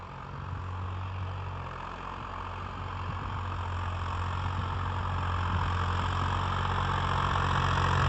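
A New Holland 3630 tractor engine runs in second gear with a steady low diesel drone that grows slightly louder over several seconds, heard close with no talking.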